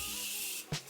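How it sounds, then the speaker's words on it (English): A continuous hissing mist of Morphe Continuous Setting Mist sprayed onto a face, a close, steady spray lasting most of the moment, then a short extra puff near the end. "Now I'm gonna take my first layer of setting spray. This is the Morphe Continuous Setting Mist."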